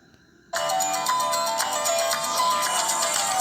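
A Samsung Galaxy phone ringtone starts abruptly after a short quiet moment and plays steadily and loudly, a bright repeating melody with no talking.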